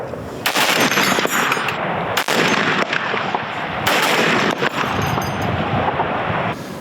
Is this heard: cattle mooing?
no